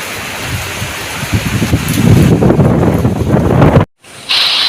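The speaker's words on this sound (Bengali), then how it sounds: "আমাদের এখানেও ঝড় আর বৃষ্টির পরিমাণও বেড়ে গেছে" Storm wind from Cyclone Remal roars and buffets the microphone with a broad rushing wash of rain, growing louder before a sudden brief cutout near the end.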